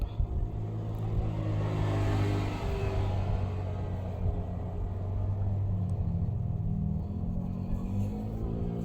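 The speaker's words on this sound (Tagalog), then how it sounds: "Murag makina rong Kuya Johnny mo anak." Kuya Johnny's vehicle engine idles and rumbles steadily nearby, a low continuous hum with slight shifts in pitch, no talk.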